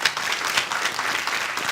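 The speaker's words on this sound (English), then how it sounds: "let's give our contenders a big round of applause" A brief burst of audience applause for contenders on a competition show, many hands clapping at a moderate level in a short, even wash.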